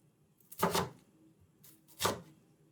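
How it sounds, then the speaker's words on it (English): Two crisp knife strokes cut through a large onion on a cutting board, slicing it into thin half moons, each a short, distinct chop with a quiet pause between them. "the recipe calls for one large onion. We're cutting it in thin half moons."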